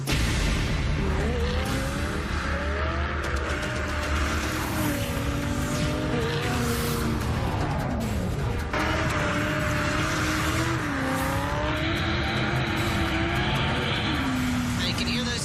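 Supercharged car engine revving hard under heavy load on a track, with tire squeal and rising and falling engine whine throughout, loud and close, with someone talking over it.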